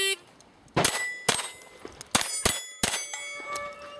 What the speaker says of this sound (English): the audio feedback when a bullet hits it rings like a bell